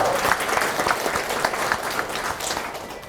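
At a party members' council meeting in Pohang, a crowd gives lively, close applause with dense overlapping claps that taper slightly toward the end.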